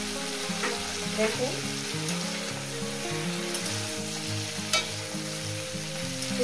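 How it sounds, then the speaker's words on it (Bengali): Cauliflower fries in a pan with a loud continuous sizzle, broken by scraping stirs of a spatula at irregular intervals; a voice briefly speaks over the cooking. "ফুলকপিটাকে এইভাবেই ভাজতে হবে।"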